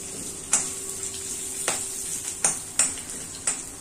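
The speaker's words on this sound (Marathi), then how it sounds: "हा जो खडा मसाला आहे त्याला जरा वेळ लागतो, म्हणून मी ते पहिली फ्राय करून घेते आहे" Whole spices fry in a pan for a village-style Maharashtrian mushroom gravy, a steady close sizzle broken by several sharp spatula scrapes and taps against the pan.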